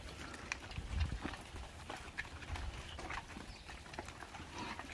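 Cows' hooves clop irregularly on a hard road as several walk past close by, a steady shuffling patter without voices.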